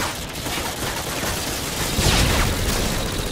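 Gunfire in Call of Duty: Modern Warfare 2 online play, a dense, steady wash of shots with a louder burst near the middle, no voices over it.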